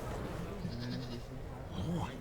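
A billy goat bleats amid a crowded village celebration in remote Vanuatu, the calls wavering and fairly close, rising over a constant murmur of many people talking.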